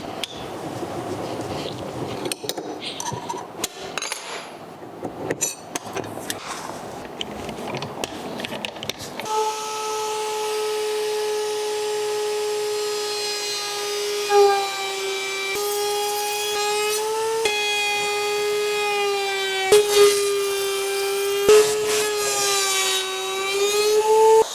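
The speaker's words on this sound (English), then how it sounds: "So let's get this router bit installed and apply a roundover." A router fitted with a roundover bit shaping the edges of glued-up wood panels, opening with scraping and handling noises, then a loud sustained high whine running continuously with brief surges as the bit cuts.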